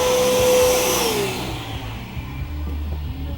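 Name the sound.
vacuum cleaner collecting metal drill shavings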